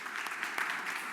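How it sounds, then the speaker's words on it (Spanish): Audience applause at a wine tasting focused on albariza chalky soils, a brief, steady burst of many hands clapping at moderate level with a slight swell midway. "Así que nada, el aplauso para ella."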